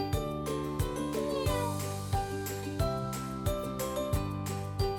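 Repeated meowing from an orange toy cat, a music-box-like melodic tune with regular, evenly spaced chimes recurring steadily, close and clear with no talking.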